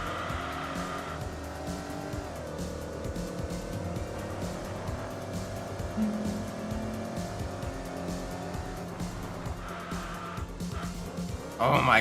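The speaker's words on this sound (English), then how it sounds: "This V8, the 5-liter V8, just absolutely. Yeah, with the level 1 power card, you can hear just a little bit more rumble to the exhaust" Game engine sound of a 5-liter V8 race car in Enthusia Professional Racing, a steady low exhaust rumble with a rising and falling engine note, running continuously at close range with faint tire noise.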